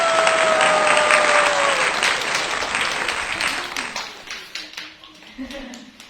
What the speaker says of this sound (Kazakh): Қане, шапалақтаймыз